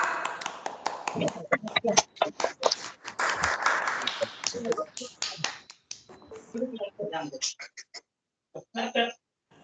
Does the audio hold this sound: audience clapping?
yes